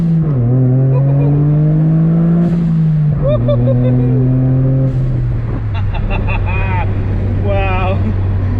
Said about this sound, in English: Let's have a go from the stop right here and let you guys hear that blow-off valve.